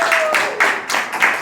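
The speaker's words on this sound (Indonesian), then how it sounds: "berikan tepuk tangan sekali lagi untuk peserta nomor undi 19" Church congregation applauding a contestant at a Bible reading competition, a rippling burst of clapping from a crowd that swells in several waves across the short span.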